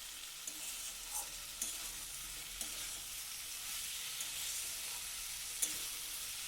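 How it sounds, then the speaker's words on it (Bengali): Fried okra with spices gets stirred in a pan, a quiet steady sizzle with light scraping clicks of the spoon at irregular intervals, close and without voices. "ভেন্ডিগুলো দিয়ে সব কিছু একসাথে ভালো করে আর একবার নাড়াচাড়া করে নেব"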